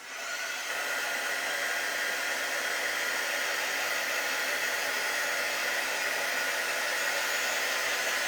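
A hair dryer runs steadily and close, blowing a constant airy roar to dry paint and a transfer on a handmade veterans sign, with no talking.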